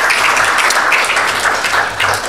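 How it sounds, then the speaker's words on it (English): An audience at an international film award ceremony applauds continuously, a dense, even wash of many hands clapping that holds steady throughout, fairly loud and close, with no clear speech. "Big round of applause for you guys."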